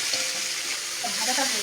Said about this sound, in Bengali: এগুলো ভাজাটা হচ্ছে।